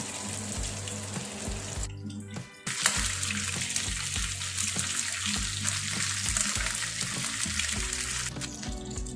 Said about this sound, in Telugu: ఇప్పుడు రెండో వైపు కూడా తిప్పుకొని బాగా వేపుకున్నామండి.